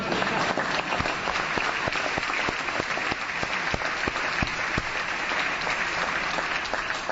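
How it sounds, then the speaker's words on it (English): Steady, full applause from a legislative audience at California's 2008 State of the State address, many hands clapping in a continuous roar with a few sharp louder claps standing out, no talking over it. "Now, you can give me applause."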